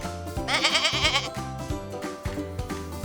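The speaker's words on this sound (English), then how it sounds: "That's right, it's a goat." A goat bleats in a series of loud, wavering cries on a farm, sounding close and alone with no talk over it.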